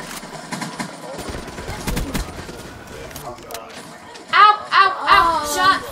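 Video game gunfire in Black Ops 3, a scattering of bursts and shots early on, followed by louder game sounds and a voice toward the end.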